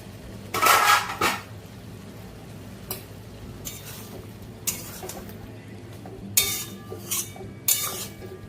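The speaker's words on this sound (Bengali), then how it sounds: "ঢাকাটা খুলছি।" A lid is lifted off a cooking pot of Bengali pui shak chorchori made with hilsa fish head, giving a few sharp metallic clanks and clatters spaced over several seconds, with faint kitchen background between them.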